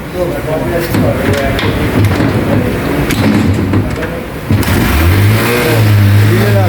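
A motorcycle with a battery charging and relay fault runs and revs roughly, then settles into a deeper steady engine drone, with people talking over it throughout.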